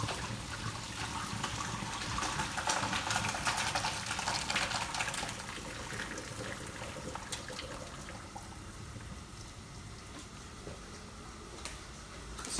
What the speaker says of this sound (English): and then drain the pasta like this one